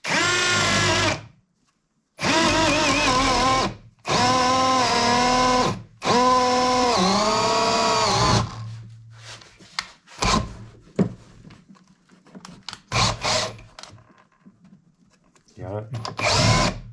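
Power drill with a half-inch bit boring through a wooden workbench leg, whining in four loud, close bursts with short gaps, followed by quieter scraping and someone talking.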